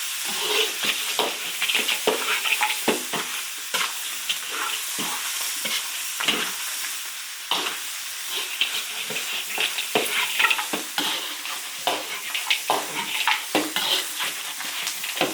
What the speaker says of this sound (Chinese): 炒，把它炒香